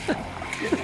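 Feet wading through a river on foot, with brief watery splashes and sloshing at a steady walking pace, close and moderately loud.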